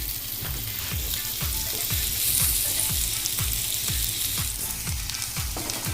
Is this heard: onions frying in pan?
yes